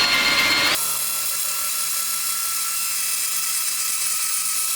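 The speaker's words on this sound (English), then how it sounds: "you can even use normal drill bits and keep stepping it up until you get some of it knocked out" Power drill boring a bit into a wooden fishing lure body, a brief rough grind at the start giving way to a steady high motor whine that runs close and loud to the end.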